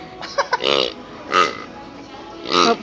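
A squeaky pig toy squeezed slowly in a Meijer store to make a drawn-out snoring noise, three separate wheezy, grunting squeaks close by with short gaps between them.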